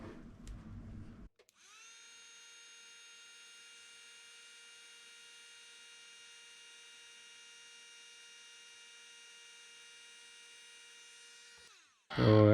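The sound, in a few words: heat gun shrinking heat-shrink tubing over a wire's spade connector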